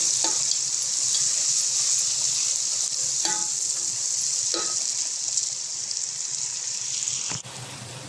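Onion fries in a pan with a loud, steady high sizzle for a village-style beef curry, with a few scraping stirs and a sudden drop in the hiss near the end.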